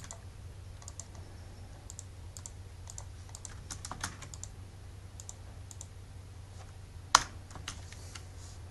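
Keystrokes on a computer keyboard while building a website in Muse, a scattering of light, soft clicks with one sharper, louder press near the end, close and alone over a low steady hum.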